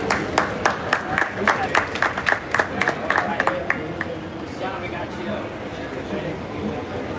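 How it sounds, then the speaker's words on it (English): Audience applause at a conference session on carbon removal, a burst of sharp claps lasting about four seconds, then fading as a speaker talks. "Big round of applause for Christine and our work."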